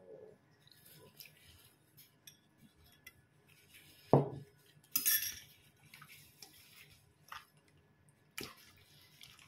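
Chicken recipe ingredients being stirred in a pan, with soft scraping, clinks of a utensil against metal and faint sizzling, quiet and intermittent with a few louder knocks.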